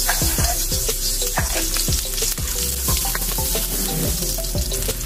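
Onion fries in hot cooking oil in a kawali, with a loud, dense, continuous sizzle and a few light knocks close up, no voices, while preparing pancit bihon with canton.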